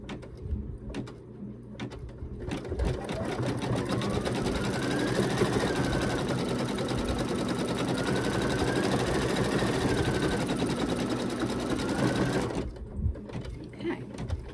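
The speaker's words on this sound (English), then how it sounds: "One more little stitch down in the corner" A home embroidery machine stitches a baby bee bib design with a rapid, steady mechanical whir and needle chatter that runs continuously for about ten seconds, starting and stopping with short bursts, close and fairly loud.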